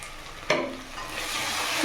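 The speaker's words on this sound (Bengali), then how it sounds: "দিয়ে এটা একটু ভাজা ভাজা হয়ে যাক।" Onion, ginger, garlic paste and turmeric fry in a pan for a spicy topse fish curry, giving a steady sizzle with a sharp stirring scrape near the start.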